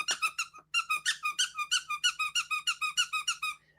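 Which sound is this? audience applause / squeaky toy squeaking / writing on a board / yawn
squeaky toy squeaking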